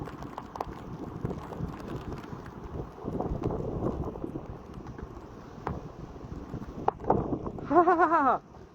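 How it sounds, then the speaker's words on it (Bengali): Rain falls steadily in a continuous, moderately loud patter and wash, with a few sharper irregular hits and a brief voice-like tonal sound near the end. "কি সুন্দর বৃষ্টি রে।"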